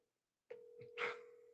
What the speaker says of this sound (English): I'm gonna call Scott back